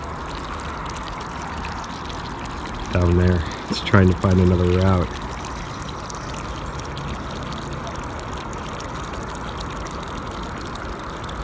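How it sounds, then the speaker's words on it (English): A hose steadily runs water through a stream table model, making a constant flowing wash while a voice talks over it briefly. "I'm going to turn the hose up to about halfway"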